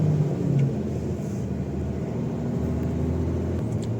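Mercedes-Benz truck driving on the road after a gear change, a steady, loud engine rumble with constant road noise throughout and no talking.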